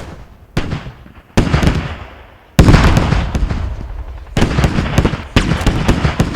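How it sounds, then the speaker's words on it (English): A rocket artillery barrage lands in a tactical military video game: loud, close blasts roll in one after another, each boom trailing into crackling rumble, with heavy overlapping impacts filling the whole stretch. "We've got barrages coming in."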